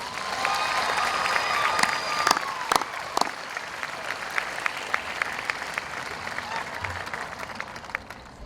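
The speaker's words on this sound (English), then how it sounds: "let's give them a nice round of applause." A large audience at the Las Lomas High School 2013 commencement applauds the graduates with sustained, dense clapping and a few cheers, steady and full throughout.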